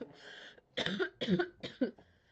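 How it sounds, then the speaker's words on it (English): Several harsh coughs burst out close by in quick succession, a handful of rough, breathy hacks with short pauses between them. "please excuse my insistent coughing"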